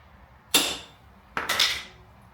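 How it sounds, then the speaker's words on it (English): A hammer strikes a steel chisel set against the track ring of a 70 series Land Cruiser twice, giving two sharp, bright metallic clanks about a second apart that each ring out and decay, close and loud with no talk. "We'll get the chisel here, hit it with a hammer,"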